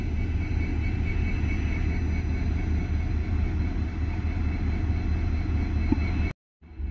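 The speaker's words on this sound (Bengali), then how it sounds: "এ লাইনে লোকোটা আসছে কিন্তু বুঝতে পারছি না" A railway locomotive approaches on the line with a steady, loud rumble of engine and rolling wheels that continues throughout, close by, before the sound cuts out abruptly near the end.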